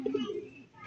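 Racing pigeons coo briefly at close range, a soft low warble that fades within a second.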